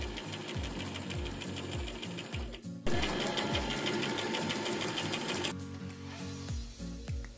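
A sewing machine runs in fast bursts of rhythmic stitching as it sews along the nose edge of a homemade fabric face mask, close and clear, with a brief pause between runs.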